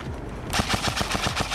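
Airsoft speedsoft guns firing in rapid full-auto bursts during a fast-paced match, a loud, dense rattle of shots that starts abruptly and keeps a steady rhythm, close by.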